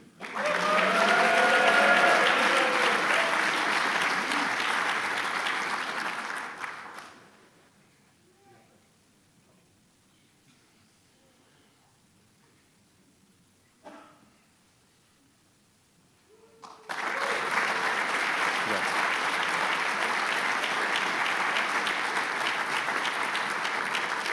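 Graduates at a Warrant Officer Training graduation ceremony are met with loud, dense crowd applause that stops for about ten quiet seconds, then resumes just as strongly and continues steadily to the end.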